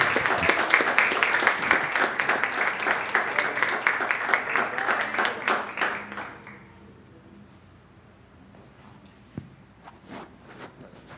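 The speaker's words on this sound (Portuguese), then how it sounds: "receba o homem de Deus aplaudindo Jesus Cristo bem forte" A church congregation claps loudly for an arriving preacher, a rhythmic burst of many hands for about six seconds, then fading to scattered claps and footsteps with quieter room noise.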